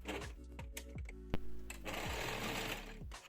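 Overlock sewing machine stitching the waistband of fleece-lined knit trousers, its motor whirring steadily in close, rapid bursts that start and stop several times, with a brief louder clack partway through.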